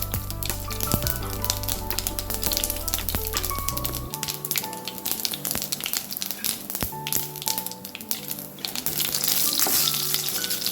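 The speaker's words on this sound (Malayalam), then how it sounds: "നമുക്ക് കുറച്ച് കടുക് ഇട്ട് കൊടുക്കാം പിന്നെ നാല് വറ്റൽമുളകും" Mustard seeds and dried red chilies frying in hot oil: steady sizzling and crackling with sharp popping bursts scattered throughout, close and fairly loud, under a faint background hum.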